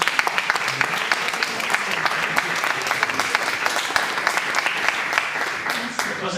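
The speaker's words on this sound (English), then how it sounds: "It was actually a big applause to all the project members of TIME4CS and INCENTIVE." A conference audience applauds, sustained loud clapping from many hands with sharp individual claps standing out, filling the room evenly for several seconds.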